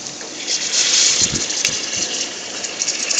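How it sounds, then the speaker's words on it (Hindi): Water gushes from a glass into a pan of keema aloo with softened fried onions, a short splashing pour that swells and then tapers over a few seconds. "अब इसमें पानी डाल देंगे 3 गिलास।"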